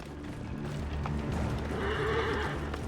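A horse whinnies briefly in the video game Assassin's Creed Origins, a rising then falling neigh, over a low mechanical rumble and faint clopping; moderately loud and close.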